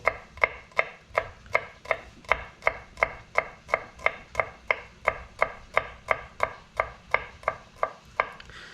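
A knife thuds rhythmically against a cutting board slicing garlic, about twenty-five quick, even chops, close and clear with no talking.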